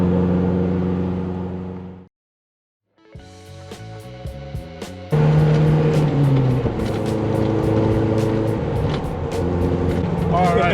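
A Ram 50 truck on knobby tires rolls through the woods, its engine humming steadily inside the cab before a brief silent gap, then a louder, rising engine drone returns, with talk inside the cab.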